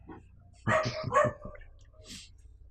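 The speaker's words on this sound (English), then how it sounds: "You hear dogs barking out in the streets at night." Dogs bark out in the streets at night, a short cluster of several quick, moderately loud barks, then a few fainter ones trailing off, with no one speaking.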